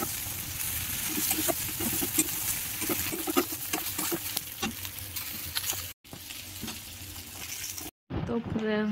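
Potatoes frying in a pan with crushed ginger and garlic, a steady crackling sizzle with scattered pops and stirring scrapes, close and continuous, broken by two brief silent gaps near the end.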